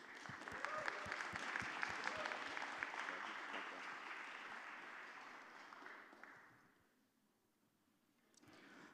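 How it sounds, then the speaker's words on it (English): Audience applause at a church-themed event, a sustained dense wash of many hands clapping with faint voices, loud for about six seconds before fading out, then a brief rise at the end. "Let's give her a big round of applause."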